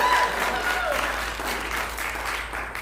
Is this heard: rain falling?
no